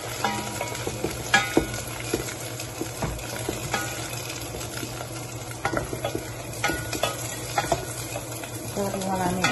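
Onions sautéing in a pan for a Filipino dish of sardines with sweet potato leaves and moringa, with steady sizzling and occasional stirring scrapes close by, and no talk.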